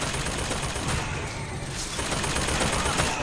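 Machine gun fire in the video game BioShock Infinite, dense rattling bursts of game gunfire running continuously at moderate loudness with a voice talking over the shooting.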